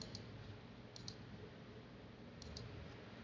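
Computer mouse clicks in LibreOffice Writer, three faint pairs of quick double clicks spaced across a quiet, hissy background.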